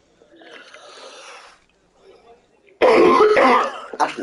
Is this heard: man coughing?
yes